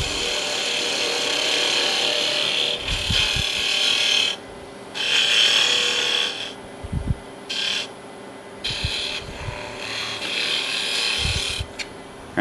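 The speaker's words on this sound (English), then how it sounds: "I'll just go in and hollow that out" A tool cuts on a wood lathe, hollowing out a small turned birdhouse, with a loud continuous scraping hiss broken by short pauses and occasional low knocks over the spinning wood.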